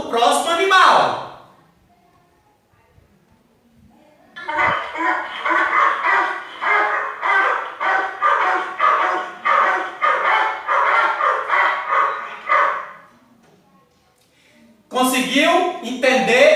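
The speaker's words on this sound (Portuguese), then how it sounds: "O cachorro!" A dog barks in a rapid, steady series of sharp barks lasting several seconds, loud and close, with a voice speaking briefly before and after.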